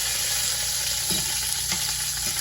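An ahi tuna steak sears in hot oil, a loud continuous close sizzle with a few small pops and crackles, no talking.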